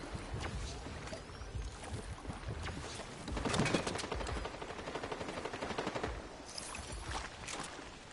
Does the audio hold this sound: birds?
no